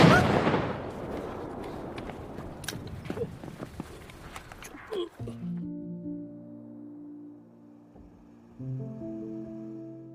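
Gunshots ring out in a brutal revenge film scene as a character fires at a man: several sharp cracks burst through a dense, noisy clatter for about five seconds, then give way to sustained, steady musical tones.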